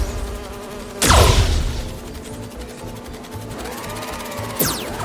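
Holographic bee wolves in the Spider-Man 2 video game buzz through a steady insect-like drone, broken by two sharp sweeping whooshes at the start and end, loud and close.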